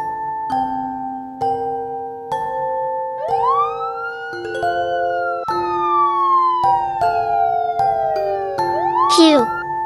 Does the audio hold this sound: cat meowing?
no